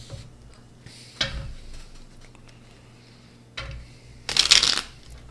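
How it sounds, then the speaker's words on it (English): Tarot cards being shuffled by hand, with a couple of short riffles and a louder, longer flurry of card slaps near the end, set against quiet background. "I can't even shuffle the cards."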